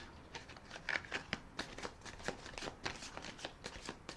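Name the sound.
riffle shuffling tarot cards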